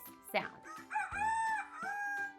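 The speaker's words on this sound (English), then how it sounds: "It's a rooster!" A rooster crows a full cock-a-doodle-doo several times in close succession, loud and near, with a brief spoken word at the start.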